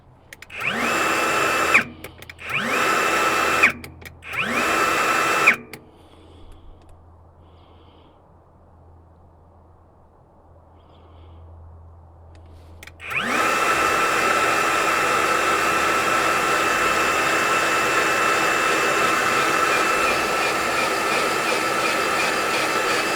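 A WorkProX cordless grease gun used on a tractor whirs loudly in three short bursts. After a quiet gap of several seconds it starts again and runs in one long, steady motor drone.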